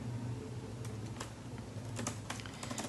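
Quiet typing of code on a computer keyboard, a run of soft, irregular key clicks with a few firmer taps close by, over a low background hum.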